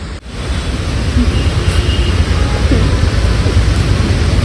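Heavy rain pours steadily throughout, a dense broadband hiss with a low rumble underneath that may be distant thunder, loud and continuous with no talking.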